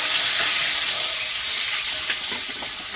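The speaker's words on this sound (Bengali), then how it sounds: "তেলের মধ্যে এখন একটু কালো জিরে দেবো, রসুন কুচি আর কাঁচা লঙ্কাটাও দিয়ে দেবো" Nigella seeds, chopped garlic and green chilli fry in hot oil, a loud close crackling sizzle with sharp spits and pops over a steady hiss.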